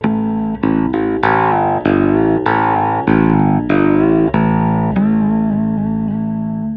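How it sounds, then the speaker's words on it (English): Electric bass guitar played with overtones blended into the low notes, a run of distinct plucked notes ringing with effects-laden, slightly distorted tone, loud and alone. "But I can also get cool overtones mixed with the bass sound."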